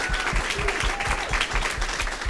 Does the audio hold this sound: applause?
yes